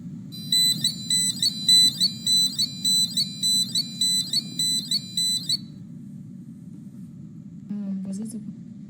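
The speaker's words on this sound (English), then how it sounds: "So that alarm played for 5 seconds and automatically shut back off." A passive buzzer wired to an ultrasonic sensor sounds a shrill beeping alarm in quick regular pulses for about five seconds, then stops, leaving a low background hum and a brief final chirp.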